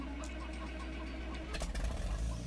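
A Farmall 560 tractor engine in a farming game runs with a steady low chug, then revs up and grows louder and rougher partway through, with no voices.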